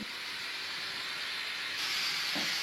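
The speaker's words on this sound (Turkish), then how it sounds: "Tenceremiz tam 5 dakikadır kaynıyor." A steady, loud hiss of steam escaping from a pressure cooker cooking chicken, continuous and unbroken, rising slightly in intensity toward the end.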